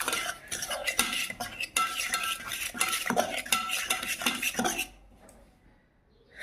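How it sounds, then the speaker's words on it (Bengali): Eggs and sugar being whisked for a homemade sponge cake batter: a rapid, steady clatter of a utensil against a bowl, close and fairly loud, that stops abruptly near the end and leaves quiet. "চিনিটা যাতে ভালো করে গুলে যায় আর ডিমটা যাতে ভালো করে ফাটা হয় সেই দিকে লক্ষ্য রাখতে হবে।"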